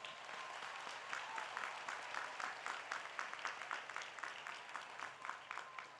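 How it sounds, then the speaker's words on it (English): At a high school graduation, a large audience in a big hall applauds faculty members being recognized, with a sustained wash of clapping and sharper individual claps standing out, moderately distant and fairly quiet. "Could I please get a round of applause for these individuals?"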